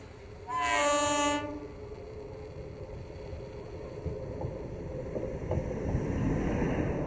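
A train on a newly built railway line in a remote area blows a loud horn, then rumbles and clatters steadily along the tracks, the rolling noise swelling toward the end.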